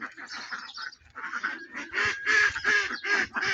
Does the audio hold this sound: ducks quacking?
yes